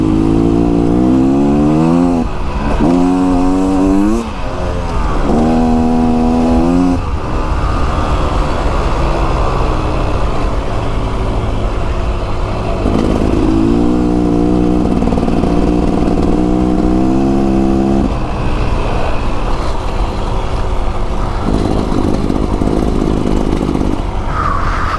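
Beta Xtrainer two-stroke dirt bike on a first ride, its engine climbing through repeated revving bursts and gear changes, loud and near with steady riding rumble between.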